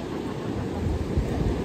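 Sea waves wash against the shore in a continuous low, rumbling roar mixed with wind buffeting, fairly close and with no clear break.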